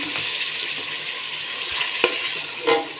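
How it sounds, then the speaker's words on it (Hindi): Steady sizzle of carrots frying, with a few clinks and a brief splash-like burst near the end as water is poured in, no voices. "तकरीबन 4 से 5 टेबलस्पून मैं इसमें डालूंगी पानी"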